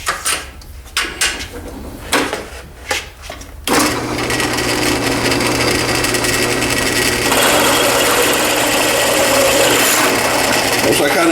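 A drill bores through the center hole of a scalloped pen blank held in a vise, a steady, loud, close grinding whir after a few initial knocks and handling sounds.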